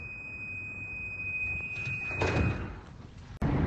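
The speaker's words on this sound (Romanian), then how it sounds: "Atenție, se închid ușile." A CAF-built metro train on Bucharest's M2 line sounds a steady warning tone as its doors close. It ends with a soft whoosh and a sharp thud as the doors meet.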